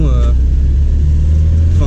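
A Talbot Samba, the small Pininfarina-styled French hatchback, being driven, its engine producing a steady, loud low drone with rumbling cabin noise throughout.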